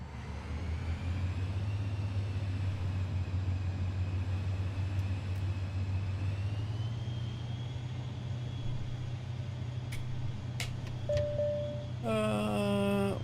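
A simulated aircraft in Microsoft Flight Simulator 2020 taxis toward the runway and takes off, its engine a steady, even rumble and drone throughout. A few brief tones and beeps come in near the end.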